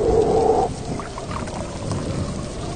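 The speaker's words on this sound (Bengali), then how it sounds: "সেদিন সন্ধ্যা থেকে শুরু হলো খুব ঝড় বৃষ্টি।" A cartoon storm of wind and rain: a steady, loud rushing hiss of rain fills the whole stretch, with a howling wind tone standing out briefly at the start before fading into the downpour.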